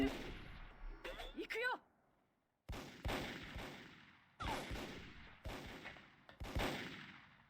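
Gunfire in the Micro Volt Recharged shooter game, several loud bursts of shots separated by short pauses, with a brief stretch of near silence early on and a voice reacting between bursts.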